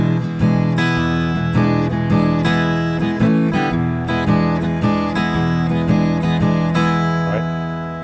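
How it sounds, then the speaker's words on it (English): Acoustic guitar plays a relaxed blues shuffle groove, strummed chords and bass notes bouncing in a steady swung rhythm, close and clear with no talking over it. "let me show you what a shuffle groove is here. I'll play it on the guitar"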